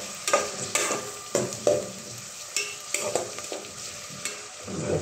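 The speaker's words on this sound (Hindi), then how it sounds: "जब तक प्याज फ्राई हो गए" Onions frying in a pan on a home stove, a soft sizzle broken by repeated stirring scrapes at an uneven rhythm, close and moderately quiet with no voices.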